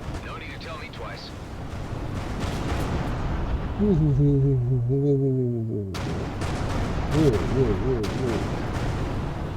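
An explosion in the space game Everspace 2 booms and rumbles with heavy low blasts, and someone speaks and exclaims over the noise.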